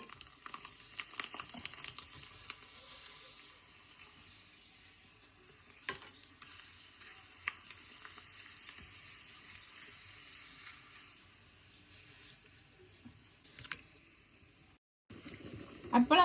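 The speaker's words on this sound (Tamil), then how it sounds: "எண்ணெய் நல்லா கொதிச்சுட்டது." Cooking oil heating in a pan for frying papad gives a faint, steady sizzle with light stirring clicks and a few sharper clatters, and a louder burst near the end.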